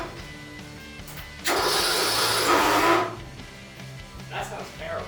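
A trackless train's engine cranks over in a loud, rough burst lasting about a second and a half, then falls back to a quieter idle-like hum, with voices nearby.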